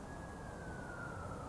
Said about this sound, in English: Sirens wailed in the distance.